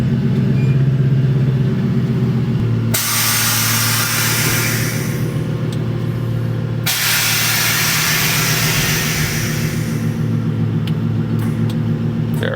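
A truck's air suspension vents air with a loud hissing rush in two long bursts, over a steady engine idle.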